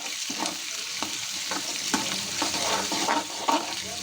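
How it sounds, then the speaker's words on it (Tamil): Onion, mustard seeds, cumin, a little urad dal and curry leaves sauté in oil, a close steady sizzle broken by rhythmic scraping strokes of a spoon stirring in the pan, without any voices. "நல்லா வதக்கிடலாம்."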